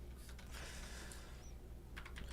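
Someone types on a computer keyboard during live stock-market day-trading prep, soft clustered key clicks in quick bursts with short pauses between them, and no talk over it.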